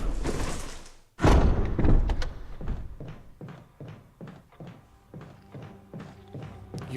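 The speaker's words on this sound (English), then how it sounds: "Disregard the banging on the door." In Resident Evil HD Remaster a zombie bangs on a door: after a loud heavy slam comes a long series of dull, irregular thumps, moderately loud and close.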